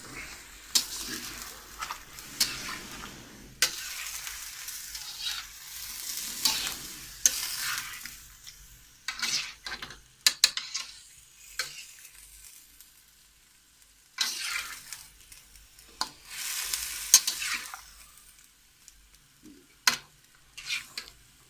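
Chicken and yogurt are stir-fried in a karahi for a white chicken karahi, with intermittent bursts of sizzling and spoon scraping separated by quieter pauses, fairly close and without speech.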